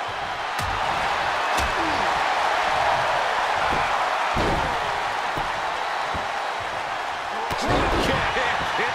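A wrestler stomps repeatedly on a downed opponent during an eight-man tag match, with sharp thuds on the ring canvas over a loud, roaring arena crowd and a commentator talking.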